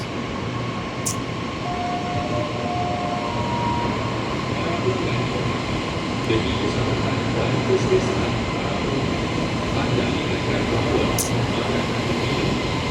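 An LRT train in Kuala Lumpur, Malaysia rumbles steadily through a station, with a constant droning roar, faint wheel hiss and a few brief squeals, with muffled voices in the background.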